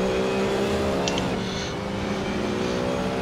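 Race car engines roar steadily in an online VR racing game, a dense whine of revving motors with shifting pitch as cars battle closely, loud and continuous throughout.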